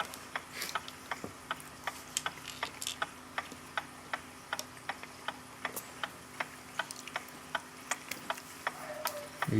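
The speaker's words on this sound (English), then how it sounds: "Now that the clock is running smoothly again" A serviced Copal RP-160 flip clock runs steadily, its quiet mechanism giving a regular series of crisp ticks at close range with a faint hum underneath.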